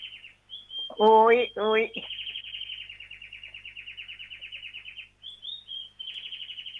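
Small birds chirp in rapid, steady trills that run almost continuously at a moderate level. A person briefly speaks over them near the start.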